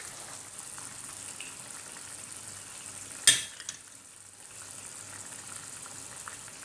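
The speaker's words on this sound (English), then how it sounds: "So now I'm adding the pasta in it and mix it properly." Macaroni stirred into a thick, oily mixture frying in a pan, a low continuous sizzle with one sharp scrape or clatter midway.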